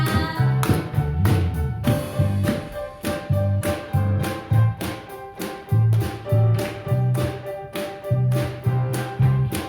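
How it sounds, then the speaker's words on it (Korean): Congregation clapping in steady rhythm along with a worship song at a Sunday church service, the claps sounding loud and regular over the music. "힘차게 박수치면서 찬양하겠습니다"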